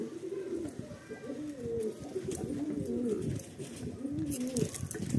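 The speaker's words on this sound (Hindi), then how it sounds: "इसमें दूसरे उनके उड़ के आए वाले भी कबूतर उतरे हैं इसमें" Several Rampuri pigeons coo close by in Latur in overlapping, repeated rolling calls over steady low ambient noise, with no talking.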